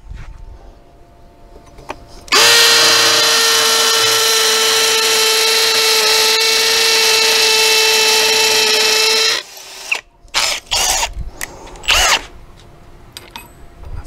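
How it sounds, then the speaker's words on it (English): A power drill bores a hole while installing a wrought iron gate, whining loud and steady for about seven seconds alone, then stopping, followed by a few short clunks and handling knocks. "I'm going to drill my middle hole first."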